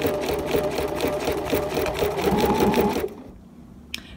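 A sewing machine stitching appliqué around a curve, a steady fast mechanical whirring and needle clatter running for about three seconds before stopping, followed by a faint click.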